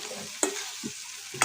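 Beef Peshawari stir-fried in a pan, a low sizzle punctuated by two or three sharp scrapes of stirring, close and brief.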